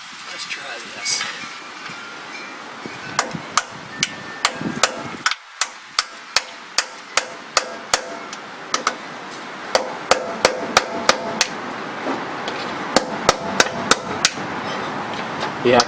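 Repeated sharp hammer strikes on a screwdriver wedged under the front differential cover of a Dodge Ram 2500 with a Mag HyTec cover, metallic taps in an irregular series, close and loud, with brief talk early on.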